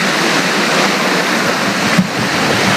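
Floodwater from Hurricane Harvey rainfall rushes past in a loud, continuous roar of churning water, close by and unbroken, with no voices over it.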